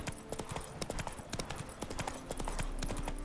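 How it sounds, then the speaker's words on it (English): Hooves of a herd of wild horses clip-clop in The Witcher 3, a steady run of close, irregular hoof strikes over a misty outdoor game ambience, with no talk. "Oh, wild horses."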